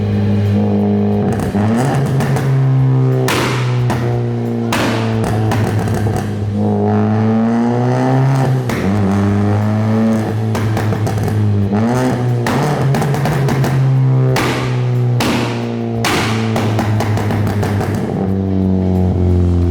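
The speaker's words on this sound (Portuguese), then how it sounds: "os pops and bangs basicamente são atrasos de ignição que ocorrem em determinados momentos" A tuned Citroën DS3 making over 300 hp revs hard and loud, rising and falling repeatedly, with sharp exhaust pops and bangs from ignition delay crackling between the revs, close by and alone.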